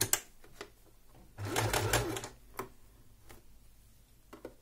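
Domestic sewing machine stitching a fabric face mask, a loud run of rapid mechanical stitching in the middle flanked by brief clicks and short bursts as the needle and presser foot are handled.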